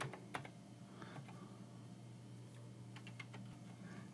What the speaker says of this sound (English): So I'm going to type set dash MSOL user.